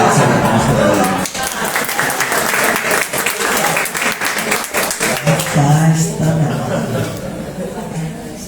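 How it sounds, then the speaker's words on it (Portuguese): An audience claps warmly for several seconds at a spiritism lecture, dense and fairly loud, with a few chuckles and murmured talk, then tapers off as chatter continues. "salve de palmas para ela"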